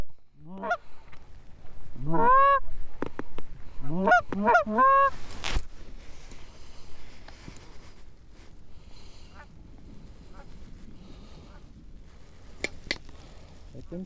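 Several geese honk loudly in a quick cluster near the start, then quieter outdoor background with a couple of sharp knocks later.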